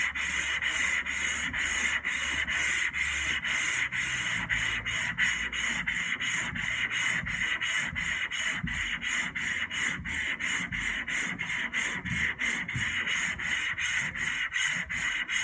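Wood is sanded by hand with coarse 50 grit sandpaper in fast, even back-and-forth strokes, a loud rhythmic rasping that repeats steadily with no talking.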